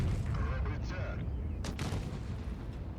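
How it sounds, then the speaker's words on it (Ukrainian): A single heavy cannon blast from a tank in WoT Blitz, the Jagdpanzer E100 tank destroyer, booms sharply midway and then fades, with a voice talking over the game audio. "Видаючий постріл по 54-му"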